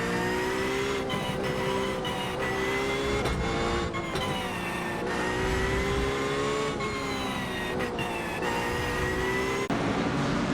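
Race cars roar around Indianapolis Motor Speedway in a racing video game: a dense, continuous engine drone with rising and falling revs as gears shift, loud and unbroken with no talking.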